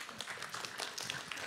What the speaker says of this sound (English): So first claps in the panel.